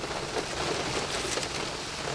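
Heavy rain pouring down outdoors during an off-road competition, a dense, steady hiss of falling water with no pauses, loud and close throughout.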